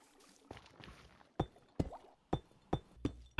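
A pickaxe breaks deepslate ore blocks in Minecraft, giving a run of five or six sharp, close stony cracks spaced under half a second apart, with fainter scraping hits before them.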